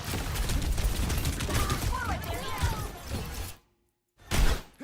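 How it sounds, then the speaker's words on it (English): Rapid gunfire rattles continuously in a video game fight, aimed at a player's block, under voices and game effects, then cuts to silence before one more loud burst. "Why is everyone shooting at your block though?"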